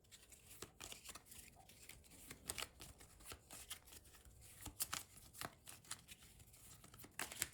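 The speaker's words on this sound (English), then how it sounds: "I'm a terrible shuffler, guys." A deck of scavenge cards for the Shadows of Brimstone board game is shuffled by hand, giving close, quiet bursts of riffling snaps and flicks in an irregular rhythm, with no talking.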